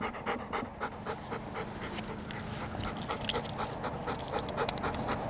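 A Labrador retriever pants rapidly and steadily at close range during duck hunting training outdoors, with no voices over the quick rhythmic breaths.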